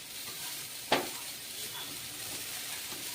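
Saag (greens) frying in a pan over a low gas flame give off a steady soft sizzle, with one sharp clink of stirring just before the first second. No one speaks.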